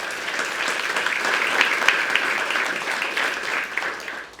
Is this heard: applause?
yes